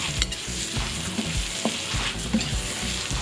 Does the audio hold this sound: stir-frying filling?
yes